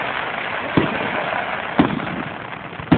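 Fourth of July fireworks burst in three sharp, evenly spaced booms roughly a second apart over a steady background rumble, each crack fairly loud and distant.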